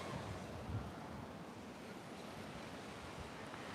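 Ocean waves roll in at an oceanfront beach as a constant broad wash of surf, mixed with wind buffeting the microphone, with no voices.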